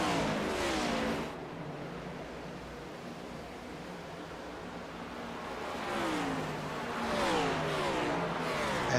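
Race cars lapping Dover Motor Speedway in a Tech 4 Troops Cup Series race, a steady engine roar from the pack that swells and fades as cars pass, heard at a moderate distance without anyone talking.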